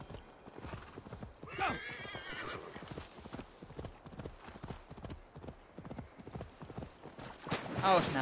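Hooves clip-clop in a steady galloping rhythm, with a horse whinnying loudly midway and again near the end, over scattered Assassin's Creed Valhalla game sound effects and occasional talk.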